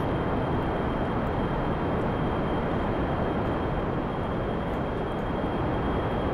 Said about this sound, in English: the jet engine's working there also